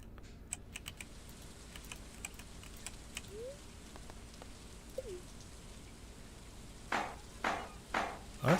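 Soft steady rainfall in the Stardew Valley farming game patters under scattered light clicks, with a few louder taps toward the end; no voices.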